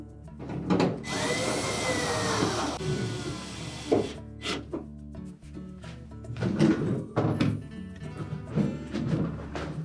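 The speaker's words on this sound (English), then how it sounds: "And push it into an upright position and reinstall the retaining screws." A power drill drives retaining screws back into a Frigidaire refrigerator after an evaporator fan motor replacement, loud close bursts of whirring with short pauses and handling clunks between them.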